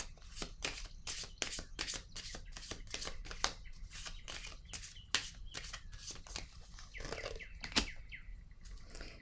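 Cards are laid and slapped down on a table in quick succession, a steady run of crisp, close taps and flicks, with a few louder snaps near the end.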